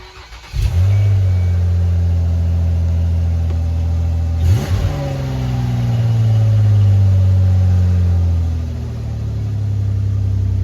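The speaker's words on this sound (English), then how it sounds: "Hear the exhaust leak." A Mazda Tribute truck engine with an exhaust leak at the flex pipe cranks, fires and idles loudly nearby. A second start or rev lands partway through, then a steady, throaty rumble continues to the end.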